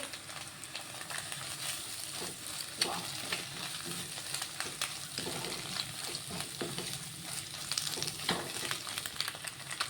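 Egg noodles stir-fried in a pan with salt and chicken masala make a quiet, continuous frying crackle, broken by irregular scraping and tossing strokes of a stirring utensil.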